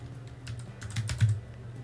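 Quick typing on a computer keyboard, a short burst of close, crisp key clicks with a slightly heavier stroke near the end.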